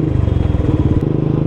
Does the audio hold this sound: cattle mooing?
no